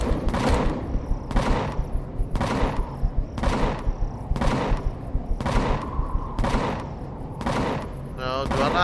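Gunfire in the space survival game Empyrion Galactic Survival, a regular series of about nine heavy booming shots roughly a second apart, loud and close, each with a brief ringing tail, and a voice briefly talking near the end.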